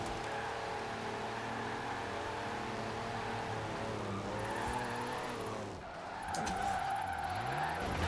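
A diesel-engined drift car in Forza Horizon 4 spins its rear wheels, a steady loud engine drone with tire squeal and a pitch dip and surge near the end, alone without talk.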